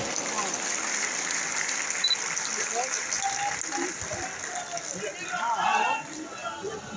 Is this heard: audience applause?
yes